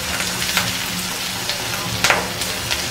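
Finely chopped onion sizzles and crackles in hot oil with curry leaves for a dhaba-style dal tadka: a steady close frying hiss with scattered sharper pops, and no voices.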